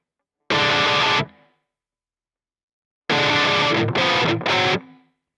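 Distorted electric guitar plays a riff variation of a song in standard tuning on a six-string, with one sustained chord burst followed after a pause by three choppy chord hits, played alone and loud.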